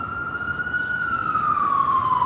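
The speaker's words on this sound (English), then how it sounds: "And we've got an ambulance behind us" An ambulance siren wails steadily on a Philadelphia city street near the downtown, loud and close, its tone sliding slowly downward over a constant traffic rumble with no talking.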